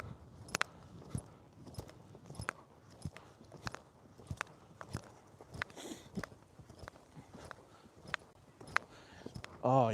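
A retired racehorse's hooves strike the ground in a steady rhythmic clip-clop through the gait, close and distinct, with a rider's voice talking softly in between.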